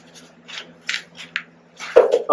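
A broom sweeps absorbent over an oil spill at a landscaping workplace, making a few short, dry scraping strokes close by, separated by brief pauses.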